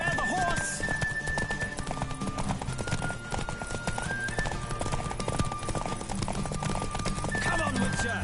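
A horse gallops in a race in The Witcher 3, rapid hoofbeats clip-clopping steadily throughout with occasional neighs, under a game music bed and spoken voices.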